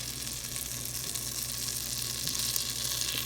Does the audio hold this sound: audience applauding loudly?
no